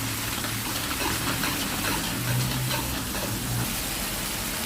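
Chu chee curry paste stir-fried with seasoning powder and a little fish sauce for a mackerel curry, giving a steady, close sizzle with soft stirring scrapes throughout and no talk.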